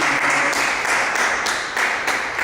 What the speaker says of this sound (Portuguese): Vamos dar uma linda salva de palmas?